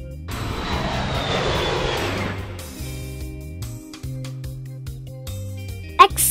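An airplane roars past with a broad, sweeping engine rumble that fades after a few seconds, followed by quieter background tones and a short knock near the end.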